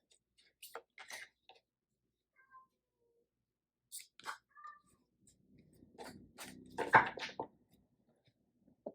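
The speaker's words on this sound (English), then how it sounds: "Oh, my kitty cat." A pet cat meows a few times in a quiet room, short separate calls spread across the stretch with soft rustling between them and a louder cluster near the end.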